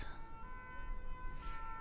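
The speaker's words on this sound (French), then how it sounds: "on entend les sirènes, je sais pas ce qui se passe" An emergency vehicle siren wails at a distance in Geneva city streets, a steady tonal whine over a low rumble of traffic. It is faint, with no voices.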